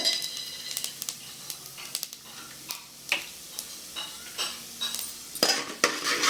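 Mustard seeds, urad dal and chana dal crackle and pop in hot oil for a poriyal, sharp irregular spits and a spoon scraping the pan over a soft sizzle.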